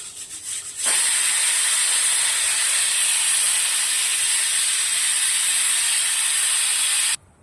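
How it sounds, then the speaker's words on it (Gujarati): Pressure cooker cooking toor dal and rice lets out one long, loud whistling steam hiss that holds steadily for about six seconds, then cuts off abruptly. "તો હું આ કુકરને બંધ કરી દઉં છું અને આપણે 3 સીટી મારી લેશું."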